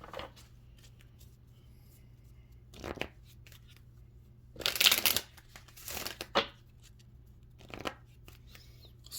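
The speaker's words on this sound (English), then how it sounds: "let's go ahead and pull some oracle cards" A deck of oracle cards is shuffled close by in several short papery bursts, with crisp riffles and slides separated by quiet pauses over a faint background hum.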